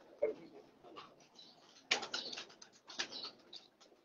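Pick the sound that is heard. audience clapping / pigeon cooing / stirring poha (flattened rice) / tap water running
pigeon cooing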